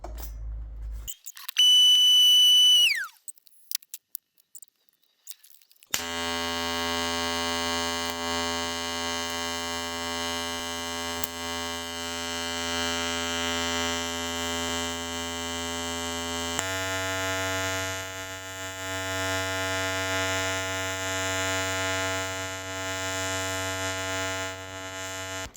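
TIG welding on a Mazda RX7 roll cage, a steady loud electrical buzz and hum from the welder running continuously, preceded by a short beep, with a shift in pitch partway through.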